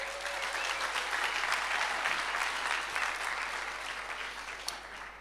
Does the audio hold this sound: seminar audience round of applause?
yes